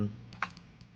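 A computer mouse clicking during Illustrator work at a desk: two or three faint, sharp clicks spaced out over a quiet room hum.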